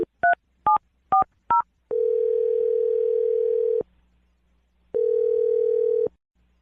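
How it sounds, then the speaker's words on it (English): Telephone being dialed: five quick touch-tone beeps in rapid succession, then a long steady dial tone, a pause, and a second long tone, clean and close with no talk. "We're going to dial the phone number for you right now"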